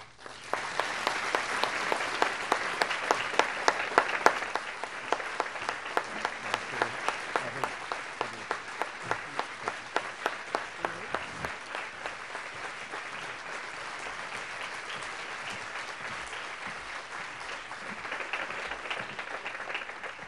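An audience applauds to welcome President Clinton and Chelsea Clinton at a book talk. Dense, steady clapping carries on for about twenty seconds, strongest early on and slowly thinning toward the end.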